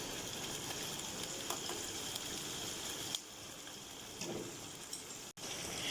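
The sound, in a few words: frying beef with garlic and ginger on high heat for karahi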